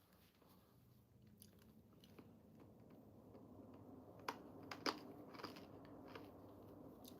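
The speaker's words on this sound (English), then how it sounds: "I'm chewing my cough drop" Faint, close crunching and chewing sounds of a cough drop come in irregular bites over a quiet room tone, with a few sharper cracks partway through.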